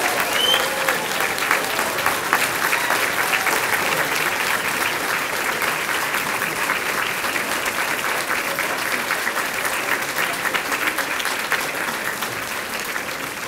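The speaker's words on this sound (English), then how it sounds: "Let us stand and give one more round of applause for all of our degree honorees and all the credential completers." A standing crowd gives a sustained round of applause for degree honorees and credential completers at a college honors convocation, dense and loud, continuous throughout without a break.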